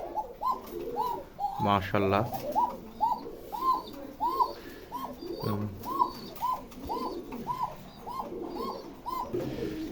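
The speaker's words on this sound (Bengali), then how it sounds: "Original tiger বাসিরাজ কুখা। তো দেখেন দর্শক কত সুন্দর করে ডাকাডাকি" Repeated cooing from Basiraj tiger pigeons at a pigeon loft in Rajshahi, a steady rhythmic chorus of soft coos from several birds close by, with someone speaking briefly partway through.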